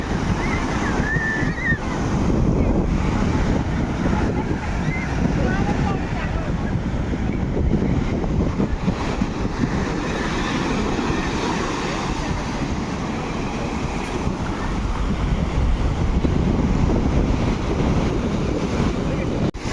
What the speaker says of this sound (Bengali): আর বড় ঢেউ আসছে